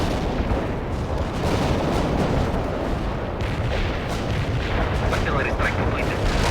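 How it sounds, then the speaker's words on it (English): Artillery strike in the World at War video game: a dense, continuous roar of rumbling explosions and booms with no letup, loud and close throughout. "Artillery strike completed."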